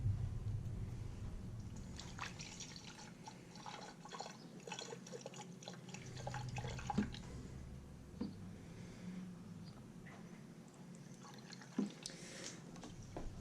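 Coolant poured through a funnel into the coolant reservoir of a Kawasaki Ninja motorcycle during a DIY flush, giving a steady close trickle and dripping of liquid with small splashes, with no talking.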